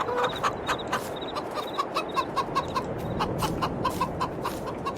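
Chickens clucking inside a barn in the Farming Simulator 22 video game: a flock of hens sounding repeated short, bright clucks in a steady, bobbing rhythm, fairly close and clear, with no talk.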